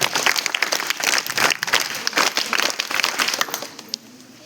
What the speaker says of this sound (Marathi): जोरदार टाळ्या वाजवून स्वागत करायचं आहे.